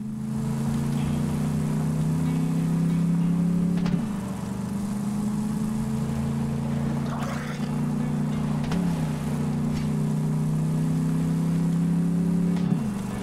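Vehicle engine in a video game: a steady, droning mid-pitched hum that runs throughout, with brief shifts in pitch every few seconds as the vehicle drives along.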